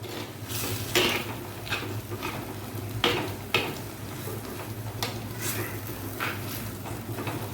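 Spoon stirring curry with spices and salt in a cooking pot, a steady close scraping and sizzling with several louder clinks of the spoon against the metal rim.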